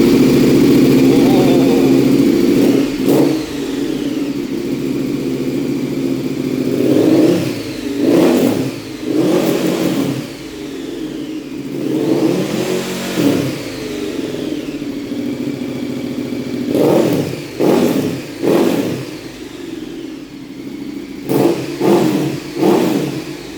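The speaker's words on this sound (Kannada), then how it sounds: "ಎಕ್ಸಾಸ್ಟ್ ಫಿಟ್ ಮಾಡಿದ್ದೀವಿ, ಜಸ್ಟ್ ಟೆಸ್ಟ್ ಮಾಡ್ತಾ ಇದ್ದೀವಿ ಹೆಂಗೆ ಬರುತ್ತೆ ಸೌಂಡ್ ಅಂತ" A stripped-down motorcycle running on 100-octane fuel, with a newly fitted Akrapovic exhaust, drones loud and close, then gets blipped through a run of sharp, throaty revs that rise and fall back toward idle.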